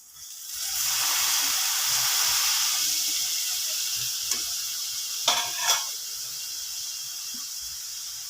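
Egg fried rice sizzling and hissing loudly in a hot pan as vinegar goes in, a steady frying hiss that settles down, followed by a few short scraping stirs near the end.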